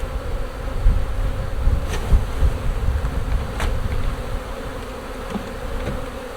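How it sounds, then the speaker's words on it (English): Honey bees buzz in a dense, continuous drone during a hive split into nucs, close and steady with a few brief ticks and bumps from handling the frames. "I'm going to take a shake of bees as well, just to help cover the brood that's in there."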